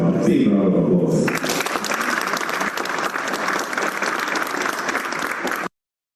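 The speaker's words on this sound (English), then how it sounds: "Let's give them a big round of applause." Audience applause at a webinar session, a dense, steady round of clapping that fills the room loudly for about five seconds after a brief voice, then cuts off abruptly.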